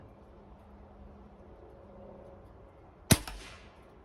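A Seneca Dragonfly airgun fires a single sharp, close crack with a short ringing tail, after a quiet stretch of faint background hum.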